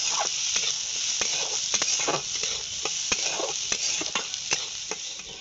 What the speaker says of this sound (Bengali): ডালটা আমি হালকা করে ভেজে নেবো